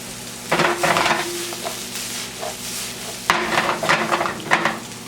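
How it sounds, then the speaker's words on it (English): Onions, garlic and achiote sauté in a hot pan, a steady close sizzle broken by bursts of louder frying and scraping as a utensil stirs against the pan, with no talking. "we're going to drop in our onions, garlic, and achiote. We're going to let this saute for about 3 to 4 minutes"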